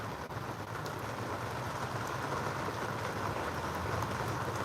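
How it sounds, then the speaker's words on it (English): Rain falls steadily during a storm on a sailboat docked near Beaufort, South Carolina, making a dense, even hiss of drops on the boat, fairly loud and continuous with no voices. "as soon as it stops raining"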